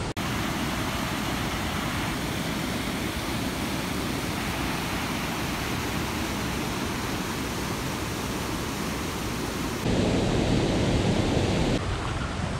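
Steady, loud roar of Hall Creek Falls, heard alone with no voices. The dense rushing wash stays unbroken throughout and swells briefly stronger near the end.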